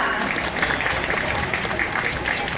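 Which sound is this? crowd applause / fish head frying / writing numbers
crowd applause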